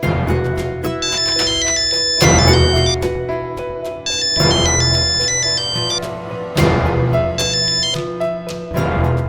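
A phone rings in bursts of a repeating electronic ringtone melody during an outgoing call, loud and close, with short pauses between the ring cycles and no speech.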